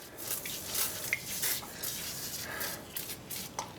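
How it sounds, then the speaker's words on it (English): A few quick spritzes of rust remover from a spray bottle, close by, short hissing bursts in irregular succession over a quiet background. "Let's go ahead and spray this guy on so it sprays out, not like a spray can."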